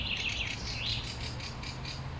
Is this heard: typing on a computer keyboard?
no